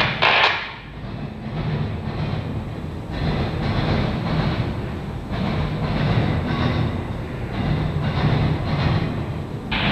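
A Norfolk Southern northbound autorack freight train passes in Marion, Ohio: a steady, loud rumble of rolling cars with regular clanking and clickety-clack beats from wheels over rail joints throughout.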